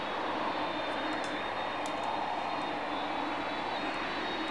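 A Boeing 747-400 airliner in Flight Simulator X rolls out after a slightly bouncy landing, its engines giving a steady, loud broadband roar with a faint high whine throughout, no voices.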